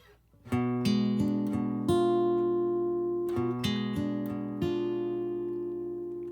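An acoustic guitar chord shape slid up the neck and strummed repeatedly in a song, close and bright, each strum ringing out over the last, with no voice.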